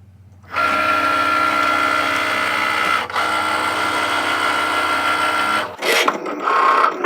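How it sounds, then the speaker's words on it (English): Electronic craft cutting machine with a rotating tool in its carriage cutting felt on a mat, a steady close motorized whir that starts abruptly, dips briefly, then shifts and stutters near the end. "the machine spins the tool around in the carriage to allow it to cut the felt"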